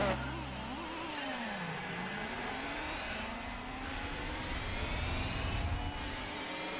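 Race car engines roar and rev in the video game Gran Turismo 4 during a Dream Car Championship sprint race against a Honda, Subaru and Mitsubishi, pitch climbing and dropping through gear changes, loud and continuous without talk.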